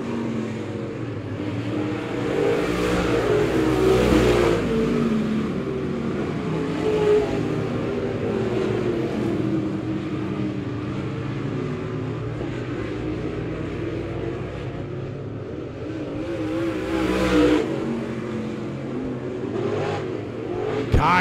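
Dirt track race car, the number 45, revving hard down the front stretch of Monett Raceway, a loud sustained roar that swells and fades as it passes amid other engines.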